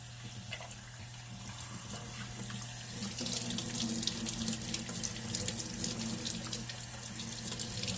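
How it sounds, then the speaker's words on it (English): Cold tap water runs into a kitchen sink in a continuous splashing stream that grows slightly fuller partway through, heard nearby and alone without talking. "Cold water."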